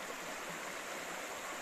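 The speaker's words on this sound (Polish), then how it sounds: "tutaj strumyk, niby nieduży, który płynąc sobie w dół" A small mountain stream flows downhill near a waterfall, producing a steady, dense wash of rushing water that is close and continuous, with no voices over it.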